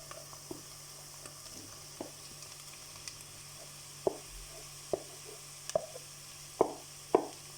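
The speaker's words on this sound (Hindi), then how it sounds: "अब इसको आप थोड़ा सा हल्का सा भून लें और साथ ही इसमें आपने जो आलू मैश किए हैं ना बॉईल किए हुए वो डाल दें।" Onion and mashed boiled potato samosa filling fries in a pan under a low, steady sizzle, while a utensil stirs and presses it in sharp, irregular taps and scrapes that grow more frequent toward the end.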